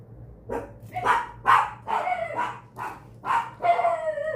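Several dogs bark in a steady run of about eight rough, mid-pitched woofs at moderate distance, the barking continuous with no speech over it.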